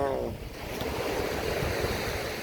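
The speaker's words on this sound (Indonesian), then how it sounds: "Wah, suara ombaknya." Ocean surf washing steadily along a shore on a family outing in Dubai, a constant rushing roar with a little wind noise on the microphone, close and unbroken.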